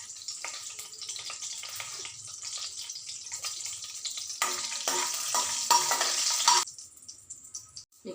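Peanuts crackle and sizzle in hot tempering oil for mango chitranna, with a busy popping fry that grows louder and denser midway, then drops back to a softer sizzle.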